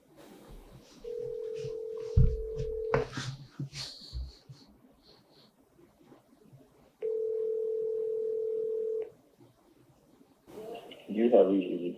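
A telephone call is placed to a broker's number. A long, steady dial or ringback tone sounds twice, split by a burst of dialing and handling noise, and a voice comes in at the end.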